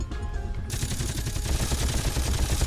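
Rapid gunfire from the player's weapon in the Ratchet & Clank video game, a dense burst of repeated shots that starts abruptly after a short quiet opening and keeps a fast even rhythm to the end.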